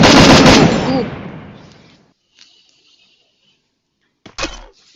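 Gunfire in a video game: a loud rattling burst opens and trails off over about two seconds, followed by faint clicks and then a single sharp shot near the end.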